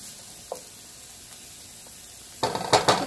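Organic ground turkey cooks in a pan with a soft, steady sizzle, and then a burst of louder scraping and stirring comes near the end.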